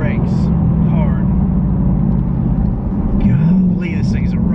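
A supercharged 2021 Ford Mustang Mach 1 accelerates at wide open throttle, its engine a loud, steady, deep roar heard from inside the car, with a voice briefly cutting in over it.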